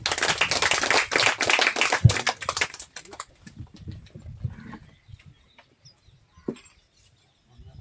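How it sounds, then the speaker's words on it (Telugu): An audience at a spiritual gathering breaks into loud, dense applause for about three seconds, then it thins to a few scattered claps and quiet shuffling. "ఒకసారి గట్టిగా చప్పట్లు కొడదాం"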